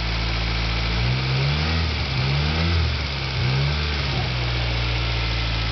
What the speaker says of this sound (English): Just rev it up a little bit.